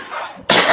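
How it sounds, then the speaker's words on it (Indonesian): A person with a cough gives a short, sharp cough close by, heard as a brief burst after a breathy lead-in. "Gue lagi batuk pula ini Pak"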